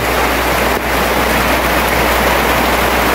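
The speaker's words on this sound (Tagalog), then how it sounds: "maghapon na ulan" Heavy all-day rain pours steadily in front of a flooded store in a dense, unbroken hiss, loud and close, with a low rumble underneath and no voices.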